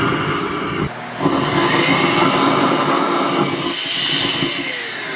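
A homemade soda-can combustion chamber for an R/C jet engine has high-speed air forced through its flame. It builds into a steady broadband roar that surges for about two seconds over a background rumble, then eases back.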